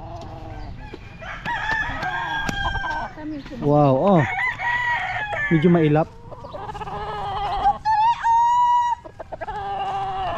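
Chickens cluck and squawk close by while a rooster crows repeatedly, with someone speaking briefly over the noisy flock.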